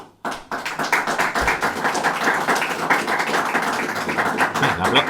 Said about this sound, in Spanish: El aplauso también se agradece.